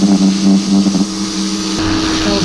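A pressure washer with a turbo nozzle blasts grime off a GMC Sonoma pickup truck, its loud, steady motor drone and spray running close and continuous throughout.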